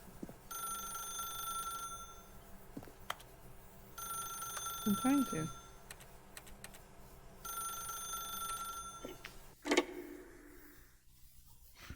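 A telephone rings in the video game The Stanley Parable, three evenly spaced electronic ring bursts at moderate level, with a player's voice and other game sounds briefly heard between them.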